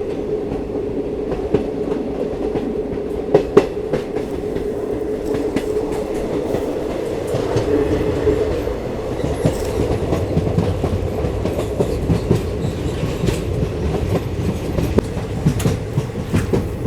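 A Sethu SF Express train on the Rameshwaram to Chennai Egmore run rumbles steadily along the rails, with a continuous low roll, faint clickety-clack and occasional sharp clanks from the carriage throughout.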